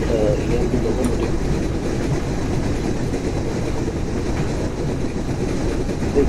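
A container train hauled by an EMD locomotive rolls past in the Open Rails train simulator, a continuous loud rumble and rattle of wagons with faint clicking of wheels on rail joints.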